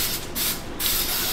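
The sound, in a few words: aerosol spray can spraying paint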